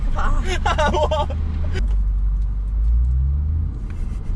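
A car rolls along with a loud, steady low engine and road rumble inside the cabin, a person speaking over it at the start before the drone carries on alone.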